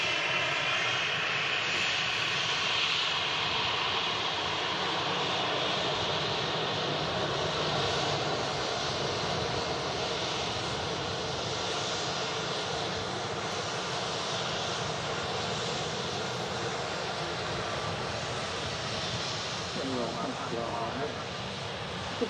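An Embraer jet's engines roar loudly and steadily at Manchester Airport, a broad continuous rush running the whole time around thrust reverse, with people talking over it.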